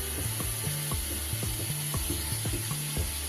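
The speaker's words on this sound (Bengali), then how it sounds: "পেঁয়াজটা বেশ ভালো করে ভাজা হয়ে গেছে আমার, দেখতেই পাচ্ছেন।" Onions frying in a pan for a katla fish curry with potatoes give a steady hiss, broken by regular scraping strokes of stirring about every half second. No one speaks.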